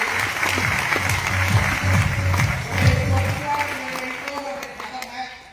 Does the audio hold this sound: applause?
yes